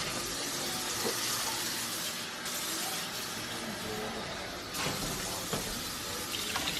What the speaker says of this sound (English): I think I'm gonna add just a tiny bit of water, maybe a tiny bit more, just to kind of keep this covered